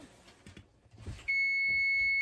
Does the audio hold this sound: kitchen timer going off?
yes